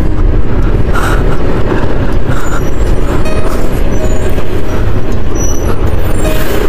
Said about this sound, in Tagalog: ayan yung traffic dito.